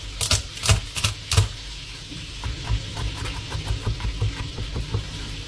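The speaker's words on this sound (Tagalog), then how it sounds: "Maghihiwa lang tayo ng sibuyas, bawang," Knife chopping onion and garlic on a cutting board: a run of quick, sharp taps, louder at first, then a steadier, softer stream of chops with faint background hiss.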